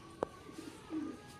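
A Kalanka pigeon gives a short, faint coo, with a soft click at the start and low murmuring notes after it, close to the microphone in a quiet setting.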